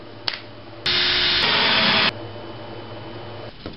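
A power drill bores a pair of small holes in wood for screws on a homemade motor base, one loud whirring burst of about a second with a brief pause partway, set between quieter stretches of room tone.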